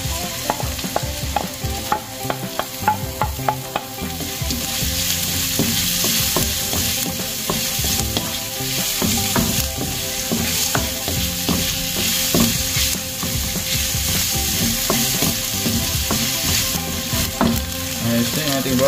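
Onion frying in a hot pan with garlic and ginger, a steady close sizzle overlaid with frequent scraping stirs and clinks of a utensil against the pan, continuous throughout with no talking.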